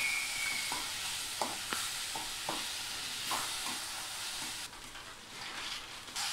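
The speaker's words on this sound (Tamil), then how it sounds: "நல்லா ஒரு 5 நிமிஷம் எண்ணெயிலே வதக்கணும்." Ivy gourd sautés in hot oil with chili powder and ginger, a broad steady sizzle with occasional spoon scrapes and stirring taps, no talking.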